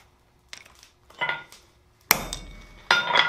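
Hammer blows drive a touch mark stamp into the underside of a warm forged steel Christmas tree bottle opener, several sharp metallic strikes ringing out close and loud, separated by brief pauses.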